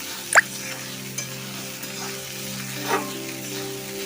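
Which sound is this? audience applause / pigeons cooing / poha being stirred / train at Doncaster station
poha being stirred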